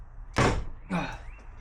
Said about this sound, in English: this is probably the first time the door cards are coming off